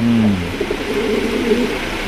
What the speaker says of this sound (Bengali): এখানে রয়েছে আরো দুইটা কবুতর, দুই কোয়ালিটি, একটা হচ্ছে ওরিয়েন্টাল কবুতর, একটা হচ্ছে রাজগোল্লা কবুতর।